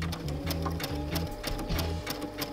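A sewing machine runs a narrow filled-in applique stitch along the outside edge of a fabric shape, its needle hammering in a steady, fast rhythm with a low pulsing motor hum throughout, close and alone.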